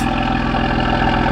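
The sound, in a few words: modified Audi S5 engine idling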